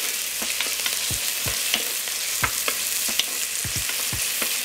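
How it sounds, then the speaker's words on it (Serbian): Onion fries in hot oil in a pot, giving a continuous close crackling sizzle with scattered sharp pops and utensil taps, and no voices. "Luk ću propržiti dok ne omekša."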